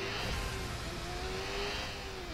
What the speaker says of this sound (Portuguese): a moto, essa moto corre demais, velho